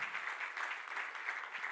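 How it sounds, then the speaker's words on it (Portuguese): A church congregation applauds during a sermon, a steady wash of many hands clapping, moderately distant and fairly quiet, with no voices on top. "Quem pode dar uma salva de palmas para Jesus?"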